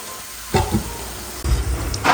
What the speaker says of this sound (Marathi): असा गोल्डन ब्राऊन क कलर येईपर्यंत या शंकरपाळ्या आपल्याला तळून घ्यायच्या आहे